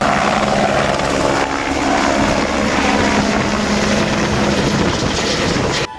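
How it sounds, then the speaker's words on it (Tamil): A helicopter carrying a wedding couple takes off near Yelagiri hill, its rotor and engine roar loud and steady throughout before cutting off abruptly at the end. "அங்கு காத்து கொண்டிருந்த திருமண தம்பதி அந்த ஹெலிகாப்டரில் ஏறி புறப்பட்டு சென்றனர்"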